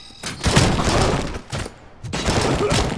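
Gunfire in the RoboCop video game: dense bursts of crackling, shattering shots in two loud clusters separated by a brief lull, close and harsh, with a sharp crack near the middle.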